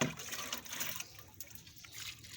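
Water poured a little at a time onto struggling vegetable garden plants in hot summer weather, a faint, uneven splashing trickle that comes and goes quietly with no talk.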